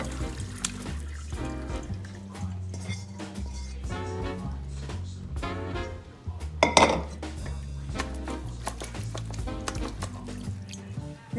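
A pot and metal utensils clink and clatter while homemade vegetable stock is strained, with trickling liquid and a steady low hum throughout, busy and fairly close, with a louder cluster of clanks midway.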